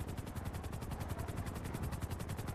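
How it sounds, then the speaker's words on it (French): A green helicopter flying in GTA roleplay, its rotor beating in a fast, steady chop close by and loud against a rumbling engine drone, with no talk over it. "c'est un hélico vert quand même"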